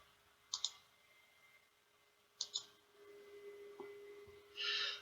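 Computer mouse clicks on an Excel spreadsheet: two quick double-click pairs, sharp and close, over a faint steady hum, followed by a few softer taps and a brief rustle.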